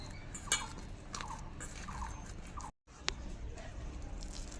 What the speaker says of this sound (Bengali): এবার হাত দিয়ে মেখে নেব